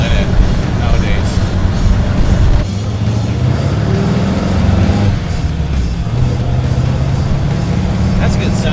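A 1930 Ford Model A sport coupe street rod with 2.5-inch straight pipes and chambered mufflers idles with a loud, low, steady rumble nearby, its tone shifting slightly a couple of times. People talk over the engine throughout.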